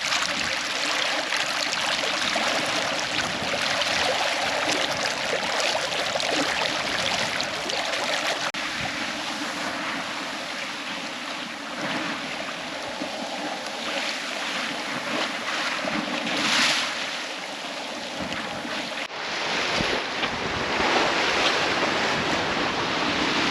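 A sailboat runs at 7-8 knots before 20 knots of wind between Serifos and Sifnos, with steady rushing water along the hull, surf wash and heavy wind buffeting the microphone, no voices.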